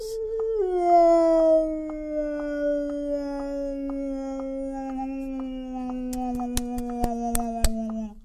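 A person's voice imitates whale calls with a long, drawn-out, wavering moan that slowly slides lower over several seconds, heard up close and alone, with a few sharp clicks toward the end.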